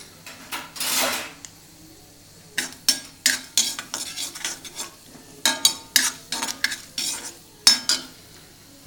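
Mustard seeds, urad dal, chana dal and asafoetida frying in oil for a Srirangam-style tomato dish, heard as a steady sizzle under repeated scraping and clinking stirs of a spoon against the pan, close and fairly loud, with no talking.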